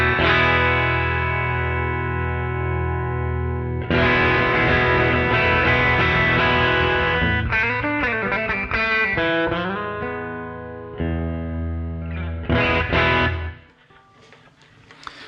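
A Fender American Acoustasonic Stratocaster electric-acoustic guitar set to position 1 plays strummed chords and single-note runs, loud and close, with pauses between phrases before the ringing fades out near the end.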